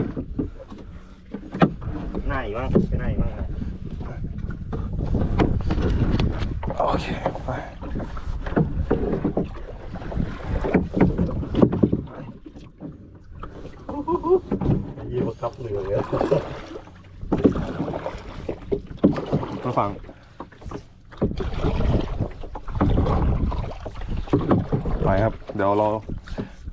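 A rubber boat is paddled on water, with irregular splashing strokes and wind buffeting the microphone, while several people talk and call out over the paddling.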